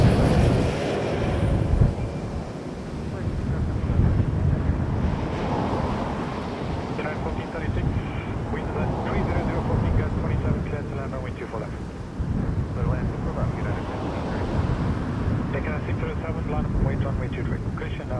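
A Boeing 737-700 airliner's jet engines roar and rumble on a gusty day at Toronto Pearson Airport, heard at a distance through buffeting wind noise while someone talks over it.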